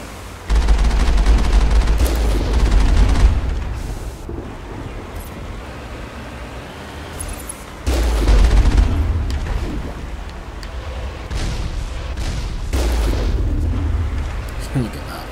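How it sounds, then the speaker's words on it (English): The main cannon on a vehicle in the video game Mass Effect fires in heavy booming blasts, with two loud low onsets about seven seconds apart and rumbling explosive noise carrying between them. "I love the main cannon on the vehicle."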